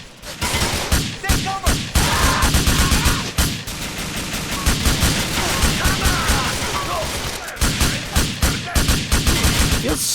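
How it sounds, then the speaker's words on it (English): Sustained automatic gunfire from the video game Grand Theft Auto IV, loud dense bursts and rapid volleys filling nearly the whole stretch with only a few brief gaps. "No cover, no looking where I'm going, all guns blazing."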